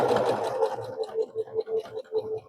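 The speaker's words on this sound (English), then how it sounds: "now I'm just going to sew this with a 1/4 inch seam" A sewing machine stitches a 9-patch quilt block with a 1/4 inch seam, giving a close, steady whir with rapid rhythmic pulsing throughout.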